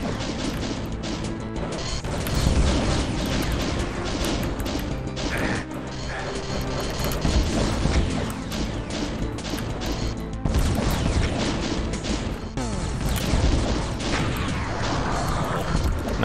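Rocket launcher explosions in Doom II, Valiant map The Netweaver, crash again and again as loud, dense blasts that pile into a near-continuous roar of impacts and debris.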